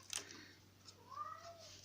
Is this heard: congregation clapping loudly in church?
no